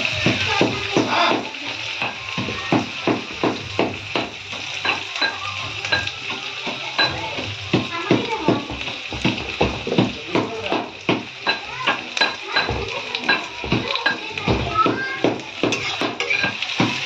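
Onion frying in a pan, stirred continuously, with a loud steady sizzle and rapid, regular scraping strokes close by that carry on throughout.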